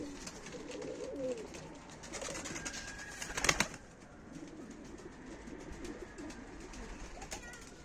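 Pigeons coo softly in Mardin, a few low calls under light background noise and occasional voices talking nearby, with a brief louder clatter partway through.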